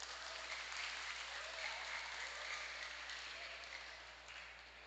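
An audience bursts into sustained applause at a community gathering, a dense, steady wash of clapping that holds for several seconds and fades slightly at the end.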